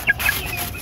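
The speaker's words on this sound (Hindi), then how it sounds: "आपको दिखाते हैं कि मेरे चिक्स मेरे साथ कितनी मोहब्बत करते हैं" Young pet chicks in an outdoor home setting give a quick soft cluck up close, one short call followed by quieter chirping.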